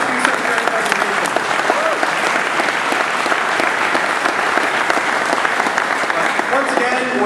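Sustained applause from an audience at game project presentations, dense clapping filling the whole stretch at an even level, with a few voices faintly mixed in.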